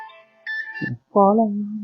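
Mobile phone ringtone for an incoming call, a short electronic melodic tune of clean sustained tones in two bursts, loud and close, with no talk over it.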